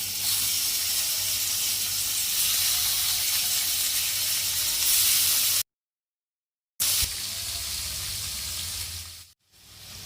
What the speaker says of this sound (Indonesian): Kita langsung goreng di sini.